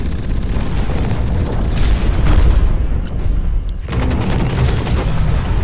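Repeated turret gunfire in the mech shooter Hawken, a dense, loud barrage of booming shots and blasts that runs almost the whole time, briefly thinning near the middle.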